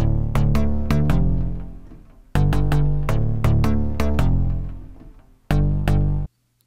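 A square house bass preset from the Vengeance Avenger synth, with a touch of grit, plays loud repeated punchy notes in a rhythmic pattern, each decaying before the next phrase, ending abruptly.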